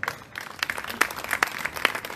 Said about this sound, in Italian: Applausi per loro.